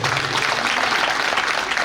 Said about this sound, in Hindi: आप मन खुद एक बार जोरदार ताली बजा